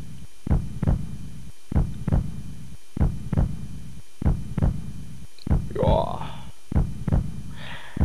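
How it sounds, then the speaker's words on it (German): A heartbeat pulse from the ERIE horror video game pounds in a steady, loud double-thump rhythm. Faint breathy sounds drift over the later beats. "Also der Puls ist mal gar nicht nervig"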